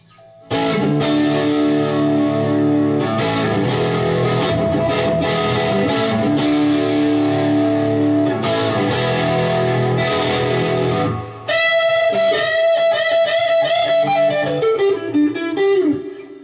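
Distorted electric guitar through a Toth Blues Cube amp, playing chords with the amp's washy reverb tail, loud and steady, then lighter picked notes ringing out with lingering echo.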